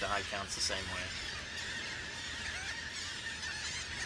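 Thousands of terns scream together at a crowded seabird colony on Egg Rock, a dense continuous chorus of shrill squealing calls, with someone talking over the din.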